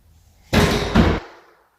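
Double doors in a house bang loudly as they swing, a broad heavy thump followed by a second impact and a brief rattle that dies away.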